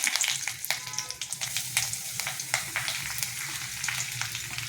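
Grated coconut and shallots fry in a pan for ulli theeyal, a steady close sizzle broken by frequent sharp crackles and pops, with light stirring throughout.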